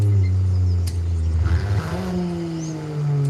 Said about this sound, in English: So it backfires with stock exhaust